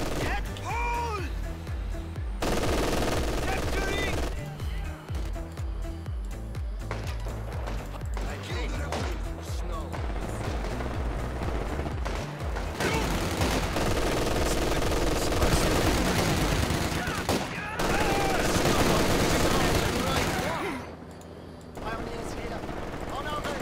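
MG42 machine gun fire in the Company of Heroes 2 video game, set on the Leningrad approach of Operation Barbarossa: long loud bursts of rapid automatic fire with scattered shots and explosions, broken by short pauses, with voices calling out over the battle.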